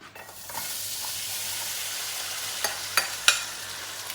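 Noodles tossed and stirred into a snack mix in a pan, a steady soft sizzling hiss throughout with a few sharp scraping clinks near the end.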